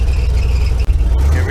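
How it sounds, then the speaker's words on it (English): A Jeep Wrangler YJ engine runs loud and close with a continuous power steering squeal whining over the low rumble, briefly dipping before resuming. "Really gotta fix that squeal though"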